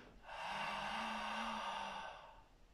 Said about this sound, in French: Une expire légèrement sonore